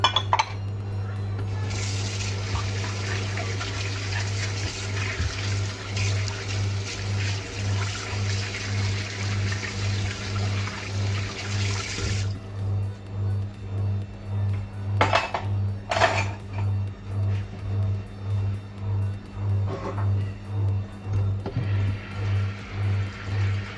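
Pots and utensils clatter while dinner is cooked, occasional metallic clinks and knocks over a steady pulsing hum and running-water hiss, with intermittent talk in the background.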